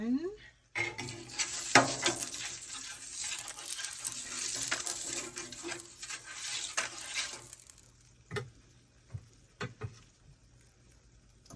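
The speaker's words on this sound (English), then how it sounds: "when we put it on the griddle, it is probably going to sizzle a bit" Pizza dough fries on an oiled griddle with steady sizzling hiss and scattered clinks and scrapes of kitchen utensils, fading to quieter clatter near the end.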